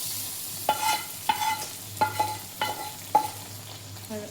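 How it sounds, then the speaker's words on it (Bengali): A spatula scrapes and knocks against a pan of frying chicken in about five distinct rhythmic strokes over a soft steady sizzle. "এই খুন্তি দিয়ে নাড়াচাড়া নাকি?"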